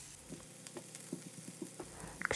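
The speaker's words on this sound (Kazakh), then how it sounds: "табамызға майды құйып, үстінен пиязды салып қуырып аламыз" Onions fry in oil in a pan, giving a quiet, steady sizzle with small crackles and pops throughout, and no voices over it.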